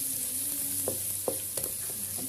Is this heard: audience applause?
no